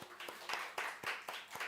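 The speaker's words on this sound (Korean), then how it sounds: "우리 축하의 박수 한번." A church congregation claps in birthday celebration during a Sunday service, a few distinct rhythmic bursts of hand claps, fairly quiet and slightly distant.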